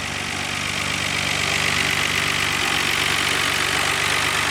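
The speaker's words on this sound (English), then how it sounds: "Engine of the vehicle runs strong, started up with no troubles" A 1991 Nissan Skyline GT-R R32 engine idles steadily and close by, with a dense, even rumble that holds constant throughout and no voices over it.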